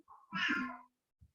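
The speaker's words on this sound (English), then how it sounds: "sorry about my cat is crying." A single close, plaintive meow from a pet cat indoors, a drawn-out cry lasting about half a second, followed by a faint short sound in an otherwise quiet room.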